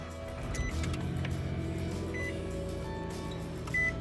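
A salvage-auction car starts and settles into a steady idle, a low continuous engine hum with a faint high whine and a brief beep near the end.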